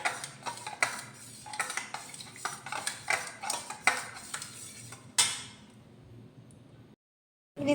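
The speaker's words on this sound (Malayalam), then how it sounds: "ഇത് നന്നായിട്ടൊന്ന് മിക്സ് ചെയ്ത് വയ്ക്കാം" A spoon stirs coriander and fenugreek powder into fish curry ingredients, clinking and scraping against a bowl in a steady, rhythmic series close up for about five seconds. A sharper knock follows, then near silence.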